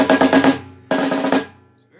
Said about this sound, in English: I forgot how really nice this snare drum actually sounds.